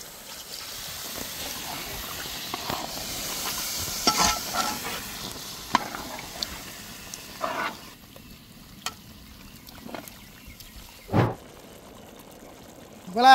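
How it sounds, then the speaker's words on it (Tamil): Water poured into a chicken rara curry in a pan while it is stirred: soft, steady sizzling and scraping of the spoon, with a few louder splashes and clinks, fairly close but quiet. "கறி வேகிறதுக்கு தண்ணி சேர்த்துக்கிறோண்ணா."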